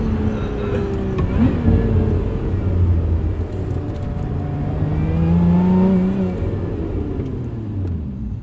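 Loud engine of a 2024 Lotus Emira six-speed manual accelerating, its rumbling note rising through the gears with audible shifts, pitch sweeping upward again and again over several seconds.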